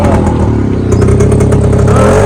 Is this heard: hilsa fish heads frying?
no